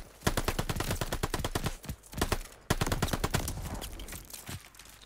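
Rapid automatic gunfire from the Call of Duty Vanguard video game, two long bursts of sharp shots in quick succession with a brief break between them, close and steady.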